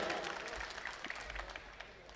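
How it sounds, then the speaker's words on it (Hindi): An audience applauds at a mushaira poetry gathering in Mumbai, with steady clapping of moderate loudness, scattered sharper claps, and a faint crowd murmur. "पुरज़ोर तालियों से इस्तक़बाल करें"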